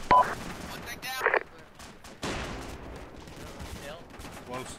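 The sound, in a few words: gunfire in the video game ArmA II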